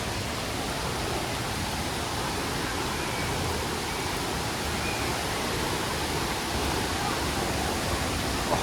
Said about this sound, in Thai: แต่ว่าเสียง น้ำตกนี่เล้า ใจแล้ว